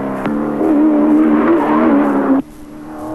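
A 1983 race car in STP red and blue livery roars on a flying qualifying lap at Bathurst, its engine a loud sustained drone held close before cutting off abruptly, leaving a faint distant hum.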